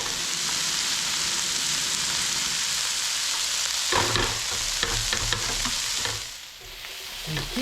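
Garlic sautéing in an eggplant and chickpea skillet gives a steady close sizzle, joined midway by clattering stirring strokes and heavier scraping, with no one talking.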